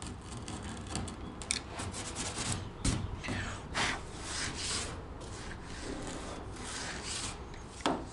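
A file rasps lightly across brittle Royalex plastic on a canoe hull, giving continuous scratchy rubbing strokes in an uneven rhythm, close and fairly quiet, with no talking.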